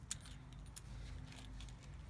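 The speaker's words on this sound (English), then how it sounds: "This is where your keys are going to be." A brief metallic jingle of keys near the start, with a few lighter clinks afterward over a steady low hum.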